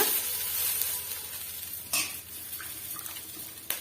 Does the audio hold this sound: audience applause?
no